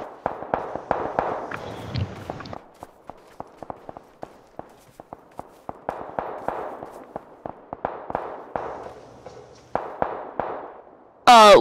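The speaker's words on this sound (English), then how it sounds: "Seems to be a lot of gunfire down that area." Gunfire in the battle royale game PUBG crackles as a long run of sharp, irregular pops and bursts, some close and loud, others more distant, with no talk over it.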